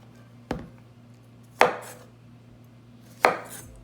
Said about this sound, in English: take these couple of zucchinis and we're gonna cut it on the sides here